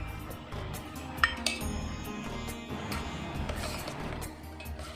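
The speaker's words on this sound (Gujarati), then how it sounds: "ચમચાની મદદથી જ આપણે આમાં મિક્સ કરવાનું છે" A spoon stirs sugar into shrikhand in a bowl, giving a few light clinks and scrapes against the dish over a low steady background, with one sharper clink near the start.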